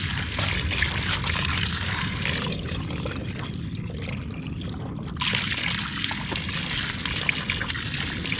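Water is dipped and poured from a forest water source at high-altitude camping ground, with steady close trickling and splashing that briefly thins midway before resuming.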